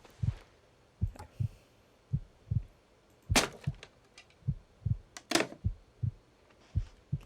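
A character's heartbeat in The Long Dark survival game, low and throbbing, repeating in steady double thumps throughout, with a couple of sharper cracks and clatters over it.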